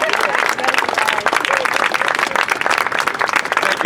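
Loud crowd applause with clapping and cheering at an outdoor City Hall Plaza rally, filling the clip as a dense, continuous wash with voices mixed in.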